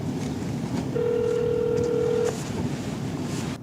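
A speakerphone call to a support bot begins with a single clear dialing tone lasting over a second against a soft background hiss, followed by a faint click.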